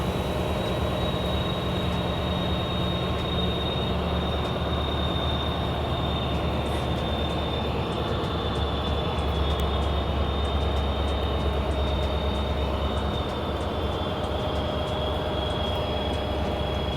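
An Amtrak passenger train rolls past steadily, a loud continuous rumble of wheels on rails with a high thin squeal held throughout.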